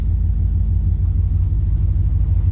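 A 1956 Dodge with a new fuel pump and sound deadening idling, a loud, steady low engine rumble close by throughout the brief stretch, without voices.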